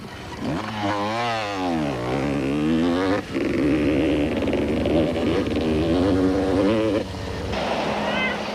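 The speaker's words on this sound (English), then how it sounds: "odgson was again consistency personified and in fourth place on another KTM" KTM off-road motorcycles race in the 1991 Sun City 400 in South Africa, engines revving up and down in rising and falling whines, loud and close, one bike passing with a sharp shift partway through.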